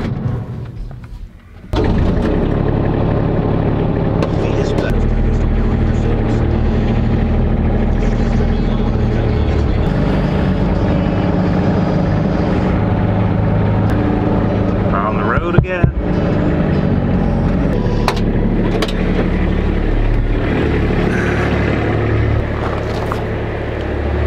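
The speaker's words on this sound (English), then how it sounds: "we're gonna use the Kubota" A Kubota utility vehicle on a seven-acre property starts up and drives with a loud, steady engine drone and rumble, with brief clanks and bumps along the way.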